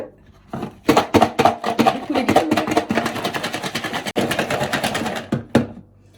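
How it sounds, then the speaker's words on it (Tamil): Tapioca fries rattle in a covered pot as it is shaken with chili powder, giving a rapid, loud run of rhythmic clattering bursts that stops briefly, resumes, then ends with a final shake. "இப்போ கொஞ்சம் குலுக்கிட்டோம்"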